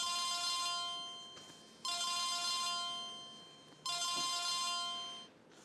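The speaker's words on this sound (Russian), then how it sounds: "Оля, тебя к телефону, твой телефон звонит." Mobile phone ringtone playing in a home, three bursts of a repeating melodic ring separated by short gaps, moderately loud and alone with no talk.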